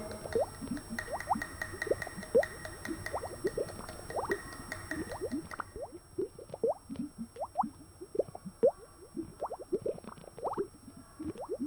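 Zinc metal reacting with acid in a small container fizzes with faint, irregular popping and dripping bubbles, close and quiet, with no talking.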